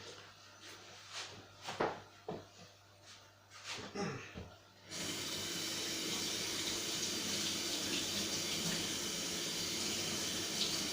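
Handling clatter and scrubbing of a cast indium coin gives way abruptly to water running steadily from a tap, a loud continuous rush that fills the second half.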